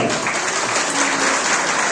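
Audience applause welcoming a CHP mayoral candidate at a breakfast gathering, a steady dense clatter of clapping sustained throughout, with a faint tonal hum underneath.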